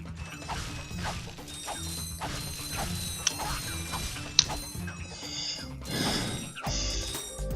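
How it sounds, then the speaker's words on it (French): Ratchet & Clank on the PS2, with metallic clicks and clinks of bolts being collected over a busy game soundscape, scattered pickup chimes and a few sharper clanks. "je vais commencer par ramasser des boulons"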